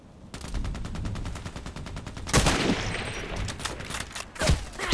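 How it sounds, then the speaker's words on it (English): Gunfire from a Nagant revolver in a shooting video game: a rapid, regular train of sharp reports, followed by a heavier loud blast and then a few scattered shots. "You cannot even put a silencer on the Nagant"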